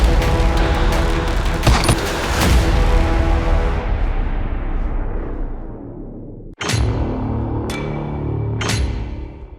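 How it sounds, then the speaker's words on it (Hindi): A series of sharp, booming gunshot-like blasts ring out, the first ones decaying into a long rumble, followed by a few more crisp cracks. "ये आवाज धमाके की थी। धमाका गोली का था"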